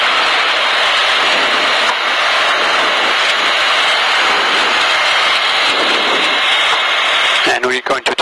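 A Cessna 152 engine drones steadily in flight during a training lesson on stalls, loud and constant from inside the cockpit, with radio crackle and clicks near the end.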